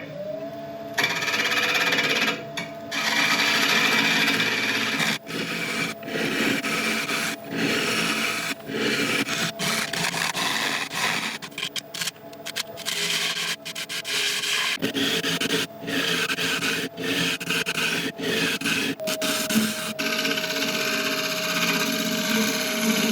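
Wood lathe spinning a bowl of ancient oak while a tool scrapes and rubs against it, giving a steady motor hum under repeated rasping cuts close by.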